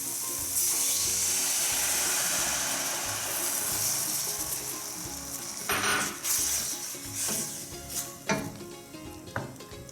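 Wine poured over caramelized onions in a hot pan hisses in a loud, steady sizzle that holds for several seconds, then breaks into sharper bursts and crackles as it settles, with no talking.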